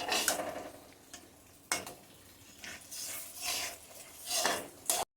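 Lentil filling for hing kachori stirred in a pan, with repeated scraping strokes of a utensil against the metal in uneven bursts over a low, steady sizzle.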